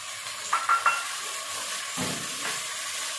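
Onions and tomatoes fry in a pan for bitter gourd sabzi, with a steady close hiss and sizzle broken by a few short stirring scrapes and clinks.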